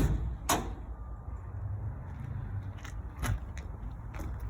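A school bus emergency door opening during a CDL pre-trip inspection: a sharp latch clack, then a few further metallic clunks and knocks, close by over low background rumble.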